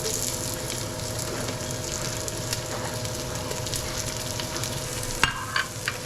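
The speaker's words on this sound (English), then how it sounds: "we're going to fry the onions first." Onions frying in a pan, a steady close sizzle with a brief clatter of stirring near the end.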